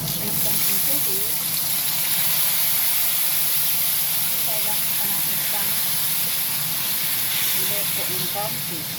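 Water added to a hot pan of honey chicken wings sends up a loud, continuous steaming hiss and sizzle, with a voice talking over it.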